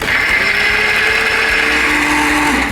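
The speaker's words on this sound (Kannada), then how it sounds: "ಇವತ್ತು ನಾವು ನಮ್ಮ ರೆಸಿಪಿಗೆ ಬಳಸ್ತಾ ಇದ್ದೀವಿ ಬೋರೋಸಿಲ್ ಅವರ ಸ್ಮಾರ್ಟ್ ಅಂಡ್ ಪವರ್ಫುಲ್ ಮಿಕ್ಸಿಯನ್ನ" A Borosil mixer grinder runs in a cooking-show kitchen, giving a loud, steady high-pitched motor whir with a faint rattling churn underneath, continuous throughout and with no talking.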